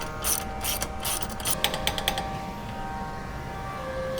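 Ratchet wrench clicking as the outer tie rod on a Polaris Xpedition is tightened, a close burst of sharp rapid pawl clicks in short strokes that tapers off into a steady hum, no talk.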